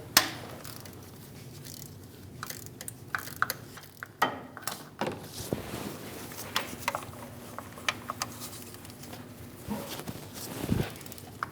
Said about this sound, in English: Using a 13mm socket, we're going to remove the other two bolts for the oil cooler.